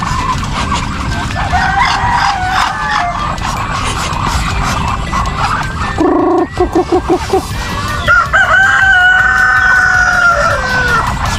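Chickens cluck nearby, joined by a rooster crowing loudly, with a burst of rhythmic clucks in the middle and faint background noise.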